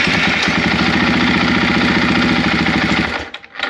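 KTM 500 EXCF dirt bike engine, 2024 model, running loud and close with a steady rapid thumping idle, then cutting out near the end, with no talking.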